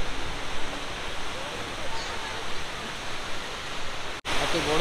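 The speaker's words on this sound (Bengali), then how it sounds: "এত বড় এই ঝর্ণাটা" A huge waterfall roars as a steady, dense hiss of falling and splashing water, with spray blowing toward the listener, continuous and fairly even apart from one brief dropout near the end.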